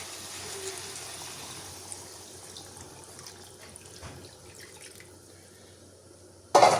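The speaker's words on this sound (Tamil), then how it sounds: "இப்போ தேவையான அளவு தண்ணி சேர்த்துக்கொள்வோம்" Water pours steadily into a pot of chicken curry, a soft continuous trickle and splash running for several seconds before a brief louder clatter at the end.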